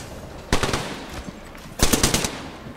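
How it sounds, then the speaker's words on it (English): Two loud bursts of rapid automatic gunfire in the Apex Legends shooter game, each a close, dense volley lasting about half a second, separated by a brief lull with faint background game noise. "I'm taking shots."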